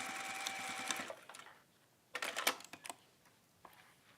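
Sewing machine basting fabric within a seam allowance while making a straight clasp jewellery piece, a close steady whirring run for about a second, then short bursts of stitching after a pause.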